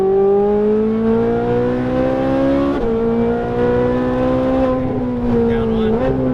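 A Ferrari 458 Italia at full throttle on a racing circuit, its engine note climbing steadily in pitch, with brief dips at gear changes near the three- and six-second marks, loud and close throughout.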